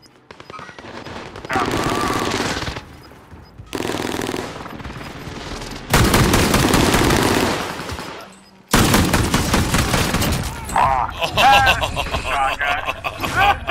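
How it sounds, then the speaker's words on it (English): An allied precision airstrike in a video game hits in several long, loud stretches of rapid, crackling blasts separated by brief lulls, with a voice talking throughout. "Allied precision airstrike incoming"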